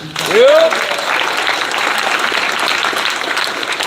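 Crowd applause at a fight-event weigh-in, opening with a loud whoop and then steady clapping and cheering that carry on at an even level.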